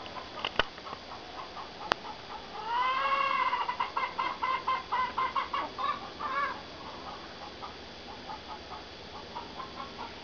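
A hen in a backyard flock squawks and clucks in a loud, rising burst of harsh calls, followed by a string of shorter rhythmic clucks that fade to quieter chatter, with no talking over it.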